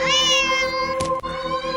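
A video game cat gives one drawn-out, close meow as it is petted, followed by brief soft rustles, with no talking.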